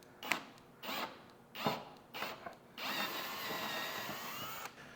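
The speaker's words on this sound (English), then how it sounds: "Now we gotta drill out another one of these guys." A power drill drilling out a wall anchor during a hack of an IKEA adjustable desk: several short whirring bursts, then one longer sustained run for about two seconds before stopping, close and moderately loud, with no talk.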